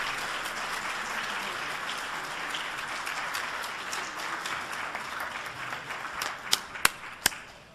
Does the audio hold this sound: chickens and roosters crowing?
no